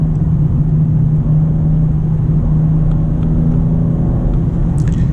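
A 2025 BMW M2 driving on a winding road, its engine a steady, loud low rumble with continuous road and tire noise throughout, no clear rev changes standing out.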